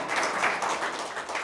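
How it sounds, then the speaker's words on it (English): A concert audience applauds the lead trumpet player of a brass quintet at a holiday concert, a steady wash of clapping that holds at an even level with no voices above it. "Let's have a round of applause for Tom Beer."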